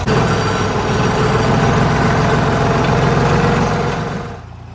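A tractor engine idles nearby on a hay farm with a loud, steady, low rumble that fades a little at the end.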